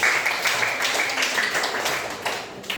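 A classroom group applauds, a dense patter of many hands clapping at once for a few seconds, fairly loud and close, then thinning out at the end.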